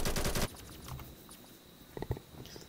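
K2 rifle fire in the shooter game Phantom Forces: a fast, loud automatic burst of tightly spaced shots that stops abruptly, followed by faint scattered clicks and quiet game noise.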